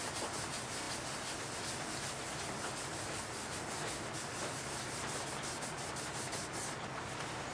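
Colour is rubbed into an edge to soften and fade it on a short stack hollow, producing a faint, continuous close-up rubbing and sanding texture with no pauses.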